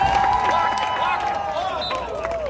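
A crowd cheers and shouts continuously at a mas-wrestling championship match in Calgary, with a sustained roar of voices and whistles filling the whole stretch, loud and steady.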